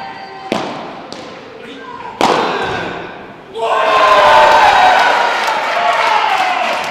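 Padel ball smash in an interclub final, heard as a few sharp thumps of ball on racket and wall, followed by a rising, sustained cheer and applause from a nearby crowd.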